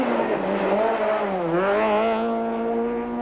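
A Toyota Conquest rally car sprints through the tight back streets of Humansdorp, its engine wailing close and loud, the pitch dipping through a bend and then climbing again under hard acceleration.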